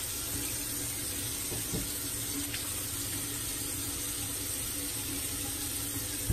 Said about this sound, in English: Excuse me for turning the water off.